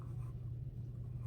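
A colored pencil scratches across paper in a close, soft, steady scraping stroke, with a low hum underneath throughout.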